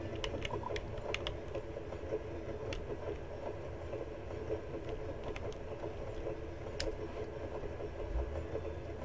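In the video game Cornucopia, a moving train gives a steady low rumble with faint clicks and rattles throughout, a continuous mid-distance drone with no talking.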